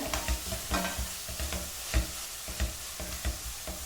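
Tomatoes fry in a pan for chana pulao, a continuous hiss of sizzling broken by regular close scrapes and knocks of a spoon stirring about twice a second.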